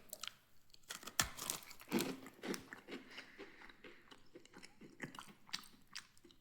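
Close crunchy bites and steady chewing of a thick Hotel Chocolat baked pecan dunking biscuit, with sharp cracks early on that soften into moist mastication, and no voices.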